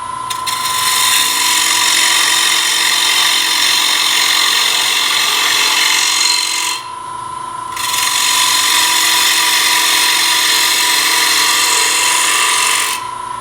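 Bowl gouge cutting a wooden bowl on a lathe, a loud continuous high-pitched cutting whir with a steady tonal hum, briefly dropping away near the middle before resuming.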